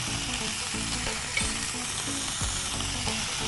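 Vegetables for a Thai sizzler sauté in a hot pan, giving a steady, even sizzle with occasional stirring scrapes and clicks, moderately loud and without speech.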